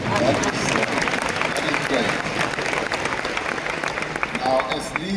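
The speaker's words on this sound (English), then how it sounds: "you can applaud that" Keynote audience applauding at a tech summit, a steady wash of clapping filling the hall throughout, with a speaker's voice over it.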